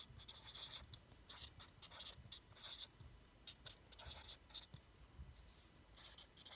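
A pen scratches across paper in short repeated strokes while magnetic field lines are drawn around a bar magnet, close and alone, each stroke a rough rasping burst with brief gaps between.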